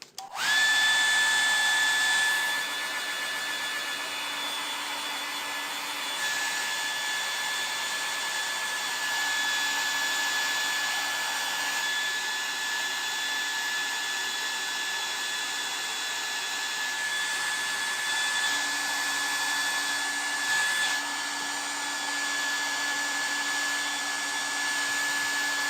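A hair dryer runs steadily and close for the whole stretch, drying fresh paint on an MDF piece, with a constant whirring hum that shifts slightly in pitch now and then.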